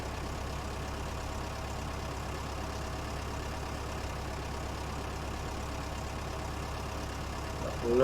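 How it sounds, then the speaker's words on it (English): Steady low drone of an old Fiat tractor engine idling in a farming video game, constant and moderately quiet throughout, with no talk. "It's got a nice sound pack on this tractor as well."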